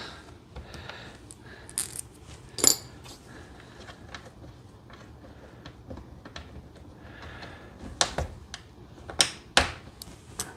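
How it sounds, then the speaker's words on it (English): Chassis screws and small washers being removed from a Fender FM212 solid-state reverb amp: scattered light metallic clicks, taps and clinks at close range, with a few sharper knocks, over a quiet room. "Go ahead and get the chassis screws out of this. Little washers."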